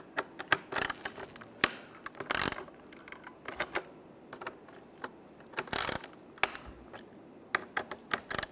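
A T30 socket ratchets out steering wheel bolts on a 2007-2013 Chevrolet Silverado, with rapid clicking pawl bursts and metallic clacks coming in uneven spurts, close and fairly quiet.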